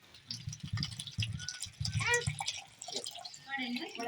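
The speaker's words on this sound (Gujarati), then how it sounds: "અને એમાં આપણે પાણી નાખી દઈએ" Water is poured and drips into a bowl of poha (flattened rice), with splashy trickling sounds under a person talking nearby.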